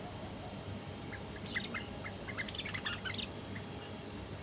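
Bulbul birds, a pair of tame mated songbirds, give faint, scattered chirps and short calls over a steady background hiss.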